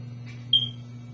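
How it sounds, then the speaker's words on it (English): A smoke detector gives a single short, high electronic chirp, clear over a steady low hum with no voices. "smoke detector keeps chirping like perfectly in between the lines that he's saying"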